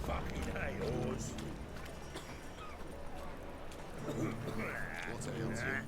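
Horse hooves clip-clop at a run in The Witcher 3, a quick rhythmic patter that goes on under game dialogue and a voice.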